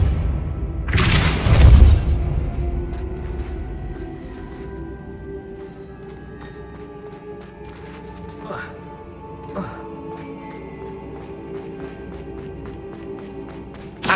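In the Hogwarts Legacy video game, a Depulso spell goes off as a loud whooshing boom near the start. A low rumble and scattered clanks and thuds from the game follow, along with faint tonal effects.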